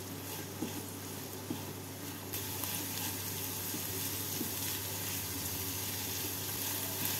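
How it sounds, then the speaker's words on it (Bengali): Chopped onions frying in hot oil in a pan, a steady close sizzle with occasional stirring scrapes running throughout, no voices. "পেঁয়াজটাকে নাড়াচাড়া করে নিলাম"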